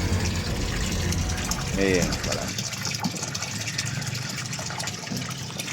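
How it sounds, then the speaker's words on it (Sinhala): Water gushing into a tank beneath a newly built Buddhist shrine, a steady close wash of flowing water heard continuously throughout, with a person speaking briefly over it near the start. "මේකට මේ යටට වතුර පුරවනවා."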